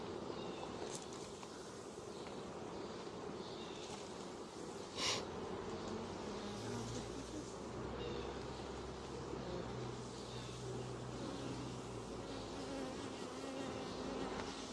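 Honey bees swarm around an open, aging hive, their dense, even buzz filling the air close by for the whole stretch, with a few louder passes of individual bees near the listener.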